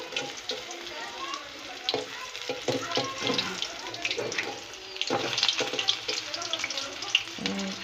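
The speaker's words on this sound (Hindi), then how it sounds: "अब इनको इस साइड में भी फ्राई कर लेंगे।" Chicken kofta balls fry in oil in a pan, giving a steady crackling sizzle with scattered pops and the clink of utensils, while a voice talks quietly in the background.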